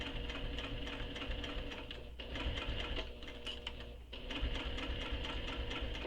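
A sewing machine runs in short bursts while stitching a curve on fabric for a bag, a fast, even mechanical whirr that pauses briefly and restarts, close and steady with no voices.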